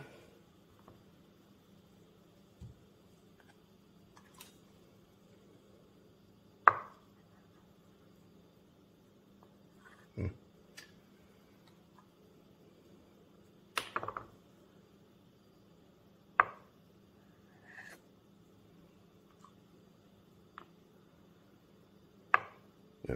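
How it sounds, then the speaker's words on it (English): A knife cuts lengthwise through boiled eggs for deviled eggs, giving sparse, sharp taps and clicks on a board at irregular intervals over a quiet room hum. "we're just going to slice these guys lengthwise and pop the yolks into the bowl"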